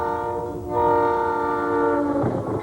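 A train in Corsicana, Texas sounds its horn in a loud, steady multi-tone blast that holds for nearly three seconds, with rumbling rail noise from the passing train underneath and no talking.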